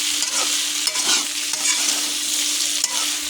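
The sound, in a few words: stirring fried kalbaus fish curry with chili powder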